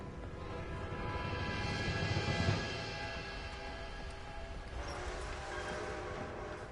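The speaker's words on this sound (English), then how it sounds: "A train!" An approaching train in the video game Red Dead Redemption 2 rumbles steadily as a broad continuous roar that swells slightly toward the middle, with no voices over it.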